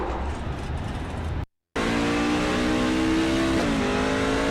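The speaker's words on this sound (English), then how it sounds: "Listen to the drivetrain." Race truck engine in a racing video game at North Wilkesboro, a steady loud drone with harmonic whine that rises slightly, broken by a brief cut to silence before the drivetrain noise resumes and holds.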